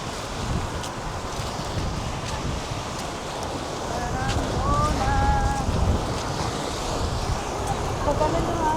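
Strong wind buffets the microphone in a constant roar, with waves and water rushing nearby and a few faint voices underneath.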